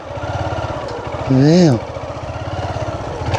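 A motorcycle engine idles and briefly revs with a rising and falling pitch during a slow parking-maneuver test, while someone talks over it giving instructions.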